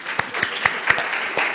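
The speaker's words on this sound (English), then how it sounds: "I think it deserves a clap" A small audience at a book release claps briefly, with scattered distinct hand claps forming a short, moderately loud round of applause.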